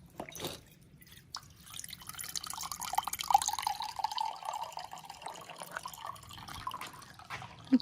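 Water being taken from a water cooler, heard as a quiet trickle and drips of running water over several seconds, with faint background noise.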